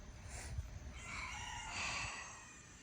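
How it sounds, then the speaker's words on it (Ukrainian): Faint roosters crowing in the distance, two drawn-out calls over a low, rumbling outdoor background. "Півники співають."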